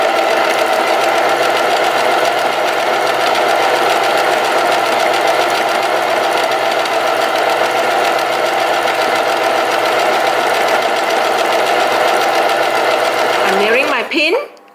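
A basic sewing machine runs continuously and loudly while stitching T-shirt sleeves, a steady close mechanical whir that stops abruptly at the end.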